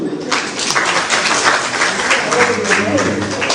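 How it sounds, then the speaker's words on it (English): Steady applause from a crowd, dense continuous clapping filling the whole stretch at an even, fairly loud level. "Please, a round of applause for you."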